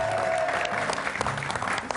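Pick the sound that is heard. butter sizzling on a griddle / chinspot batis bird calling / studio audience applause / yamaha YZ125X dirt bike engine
studio audience applause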